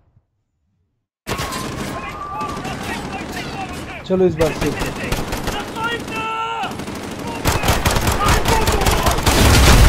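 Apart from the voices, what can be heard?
gunfire in a video game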